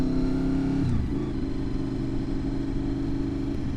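A motorcycle pulls away from a stop on a road, its mid-pitched engine note shifting as it accelerates steadily, loud and close with no talking over it.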